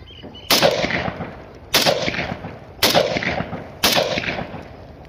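A .222 bore rifle with a copa fired four times at roughly one-second intervals, each sharp, loud report trailing into a brief echo, with no talking.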